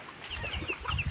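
Chickens let out into a mesh-fenced areca nut plantation on a poultry farm cluck several times in soft, uneven bursts, fairly quiet and with no voices over them.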